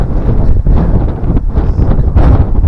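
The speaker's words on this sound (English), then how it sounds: "God, that wind's cold" Cold wind buffets the microphone in steady, loud gusts at Byland Abbey, a ruined 12th-century abbey in England, filling the whole stretch with a low roar and no talk.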